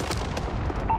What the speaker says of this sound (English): This is Falcon 3-0. Cruise missile away.